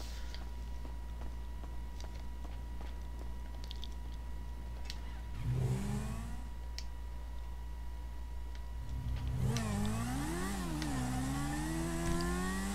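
Motorbike engine in GTA 5 Online revving up and down in rising and falling sweeps, loud and close, over a steady vehicle drone, with a brief rev midway and sustained revving toward the end.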